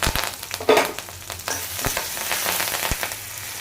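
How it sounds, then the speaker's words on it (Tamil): Hot oil crackles and sizzles as mustard seeds and curry leaves hit the pan, with sharp pops early on settling into a steady, busy fizz. "இப்போ இதை தாளிச்சுக்கலாம்."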